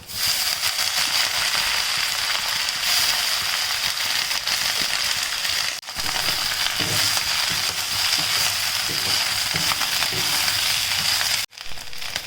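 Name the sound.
drumstick leaves frying in a pan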